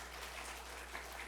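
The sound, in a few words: applause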